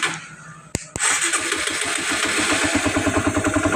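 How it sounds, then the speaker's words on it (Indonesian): An older Honda CBR 150 motorcycle, one that struggles to start and stalls on its own, cranks on the starter with a couple of sharp clicks, then catches and settles into a loud, steady, throbbing idle up close. "Kita matiin lagi, kita hidupin lagi, kita starter."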